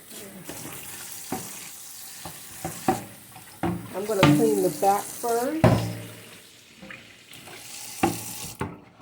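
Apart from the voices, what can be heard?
running cold water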